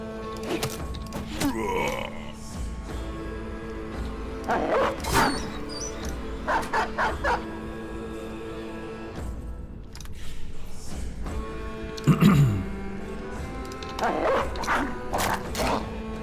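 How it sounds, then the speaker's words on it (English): Dogs bark in a video game fight, with repeated bursts of barks and yips scattered across the stretch amid combat noise and occasional groans. "We're gonna let the dogs do at least some of the fighting here."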